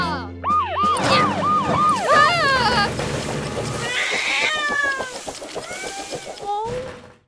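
A cartoon kitten meows repeatedly in a high, wavering series of cries stuck up a tree, clear and close, mixed with a siren-like cartoon emergency vehicle tone and background effects.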